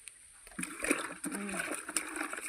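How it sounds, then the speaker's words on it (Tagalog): Water splashes and gurgles in a drum as alum is mixed in to clear it, a short burst of moderately close, irregular sloshing with no talk. "Lalagyan ko yan siya ng tawas guys, yung aming tubig."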